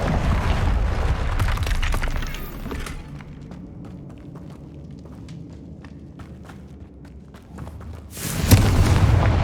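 A Confringo fire spell explosion in Hogwarts Legacy, a loud close blast with crackling debris at the start, then quieter rumbling and scattered ticks, before another loud burst near the end.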